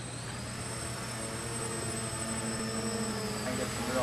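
A Motorhead RC model F-16 jet flying indoors, a steady whining electric ducted-fan hum that slowly grows louder as it passes, with someone talking underneath.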